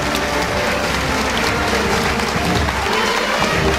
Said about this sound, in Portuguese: Dirigindo-se à bancada, solicitando os aplausos do público.